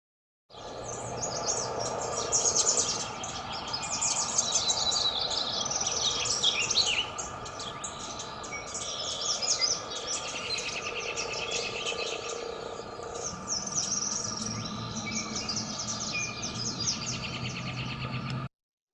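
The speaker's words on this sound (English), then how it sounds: "it's just a fun way to see and hear how many birds can be singing at once" Many wild birds singing at once in an outdoor field recording, a dense overlapping chorus of high chirps, trills and whistles over a steady insect-like drone, continuous and fairly close throughout.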